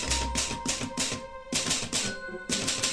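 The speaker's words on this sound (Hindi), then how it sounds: "मेरे दादाजी के पास यही टाइपराइटर था।" An old typewriter clatters away on its own, with quick bursts of key strikes, a brief pause around the middle, then more rapid typing, close and clear with no voices.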